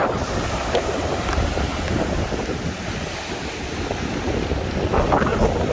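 Strong wind buffets an unshielded microphone outdoors at a beach resort in Bavaro, a constant loud rumbling roar with surf-like washes throughout.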